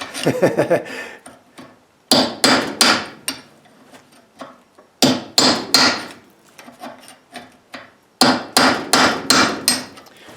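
Sharp metal-on-metal hammer blows on a rusted-in universal joint come in three bursts of rapid strikes, each burst followed by a short pause, loud and close.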